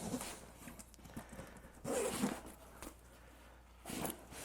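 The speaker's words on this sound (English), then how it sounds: "So it's a full perimeter zip to the bottom." Full perimeter zip on a Nomatic 30L travel bag pulled open toward the bottom, giving close raspy zipper runs in three separate strokes with short pauses, alone in a quiet room.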